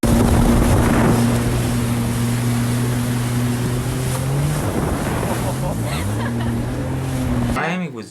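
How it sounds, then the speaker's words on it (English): Sea-Doo jet skis ride on the sea off Miami, their engine drone shifting in pitch under heavy wind buffeting and splashing water, loud and close throughout. "On the Sea-Doo. jet skis."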